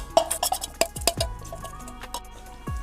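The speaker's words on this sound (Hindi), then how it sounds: "चम्मच से पहले हम इसे अच्छे से मिक्स कर लेंगे" A spoon scrapes and clinks against a bowl while mixing sticky millet dough with jaggery, giving a few sharp metallic taps and soft squishy stirring sounds, close and moderately quiet, with no talking.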